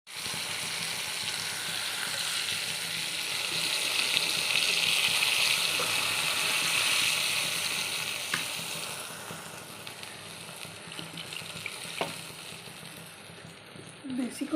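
Water pours into a hot pot of potato curry with dhoka lentil cakes, producing a loud rushing sizzle that slowly fades to bubbling and stirring, with a voice talking faintly at times.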